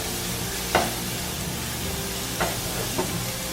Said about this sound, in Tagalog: igisa lang muna natin ng mga 30 seconds ang ating bawang at sibuyas